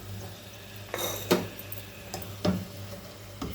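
Potato curry served onto a plate, with a few light clinks and taps of a spoon against dishes spaced about a second apart over a steady low hum, close and fairly quiet.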